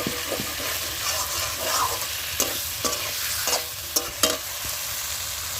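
Amudi fish curry masala sizzles steadily in a pan over a clay wood-fired stove, with a spatula scraping and clinking in irregular strokes through the close, continuous frying hiss.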